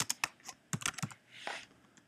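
Quick, light clicks of typing on a computer keyboard, a short irregular burst of close keystrokes in a quiet room.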